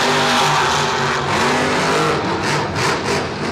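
Loud, continuous engine roar of Monster Jam monster trucks racing in MetLife Stadium in 2013, with revving and a brief tire squeal, heard up close with no talking.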